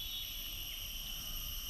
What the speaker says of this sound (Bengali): দেখছেন, ঝিঝি পোকার কি সুন্দর শব্দ